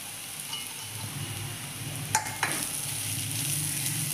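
Potatoes roasting and sizzling in a pan over a gas flame, a steady frying hiss with a couple of brief clinks from stirring partway through.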